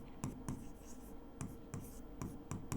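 Pen or marker strokes scratch out a trigonometry math problem in quick, separate bursts, faint and close, with short pauses between strokes and no voices.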